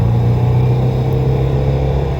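A 1998 VW New Beetle's engine drones steadily from inside the car while driving, a loud, constant low rumble with no talking over it.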